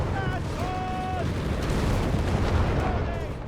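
Mortar fire and explosions in Company of Heroes 3, a dense continuous battle din of booms and blasts with a voice talking over it.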